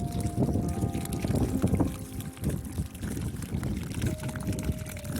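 Water gushes from an open pipe standing alone by the Mar Chiquita lagoon, a continuous splashing, pouring rush close by, with wind in the background and no talking.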